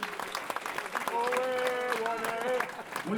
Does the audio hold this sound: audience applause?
yes